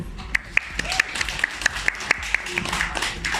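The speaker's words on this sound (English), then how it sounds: "Big round of applause to Tobias Norman." A small audience gives Tobias Norman a round of applause, a handful of loud, separate claps at close range, mixed with bright cheering voices and whoops.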